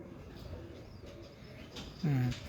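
Young paired pigeons in a breeding loft give one loud, close coo near the end, after a quieter stretch of soft background murmuring.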